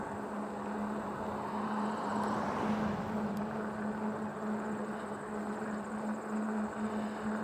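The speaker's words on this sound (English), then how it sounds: "Okay, here's a car." A single car on a quiet country road near a chain of lakes, swelling gradually out of steady wind and traffic-like rumble as it approaches and passes at moderate distance, with a steady low hum running throughout.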